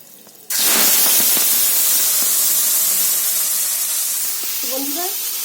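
Ground paste of onion, ginger, coriander, cumin, tomato and green chili dropped into hot oil in a wok, bursting into a loud, sudden, sustained hiss and sizzle that slowly eases.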